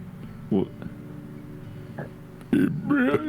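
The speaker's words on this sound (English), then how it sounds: "Sorry, nervous burp" A short, low burp close to the mic, set among talking voices.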